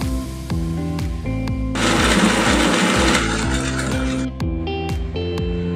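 A kitchen mixer grinder churns coconut, jaggery, dry chilli and fenugreek in a loud, steady whir, its pitch stepping and wavering as the load shifts, with a rougher burst of grinding in the middle; no one speaks.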